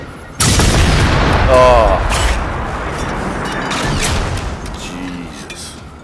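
Rocket launcher firing in Generation Zero during a level 4 base attack, a loud sudden blast followed by a long rumbling roar and mechanical clatter, with a brief exclamation over it.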